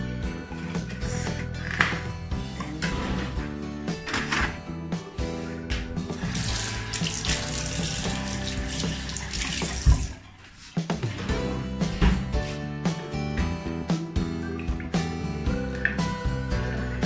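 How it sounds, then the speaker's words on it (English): A kitchen water tap runs steadily to fill a child's cup, a continuous rushing stream that briefly cuts off midway and then resumes just as strongly. "So filling water in his favorite cup."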